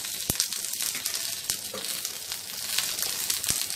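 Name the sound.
curry leaves and green chilli pieces frying in oil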